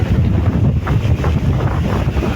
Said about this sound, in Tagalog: Wala namang ulan, hangin lang.